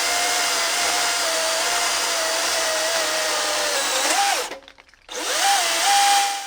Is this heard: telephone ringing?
no